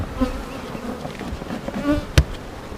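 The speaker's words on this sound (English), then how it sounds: "It's always a good sign when you have bees in the top box." Honeybees buzzing in a backyard hive during an inspection, a close, dense hum of many bees with a sharp knock or thump near the end.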